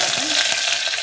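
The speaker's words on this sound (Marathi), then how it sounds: "कढीपत्ता पण टाकून घेऊया आपण." Curry leaves crackling in hot oil with mustard seeds, cumin, garlic and green chillies for sambar, a dense steady sizzle with small spits and pops throughout, close and alone.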